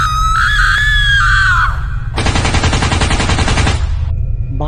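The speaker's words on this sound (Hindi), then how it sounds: "कमला वहां पर आती है और पागल की तरह चीखने चिल्लाने लगती है।" A woman screams wildly in a long, loud, wavering shriek, then a burst of rapid machine-gun fire rattles over a constant low rumble.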